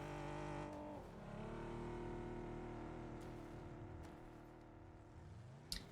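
Cars in a video game drive past in two different directions, engines droning and shifting pitch as they move around the player, fairly faint and steady with a brief sharp knock near the end.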